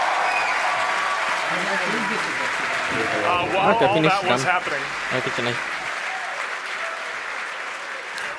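Crowd cheering and applauding at SpaceX headquarters in Hawthorne after a booster landing during the Bangabandhu satellite launch, a loud steady roar that swells midway, with someone talking over it.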